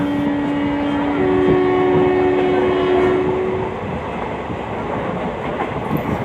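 A train rumbles steadily along the rails, loud and close, with a long sustained horn tone sounding partway through before fading.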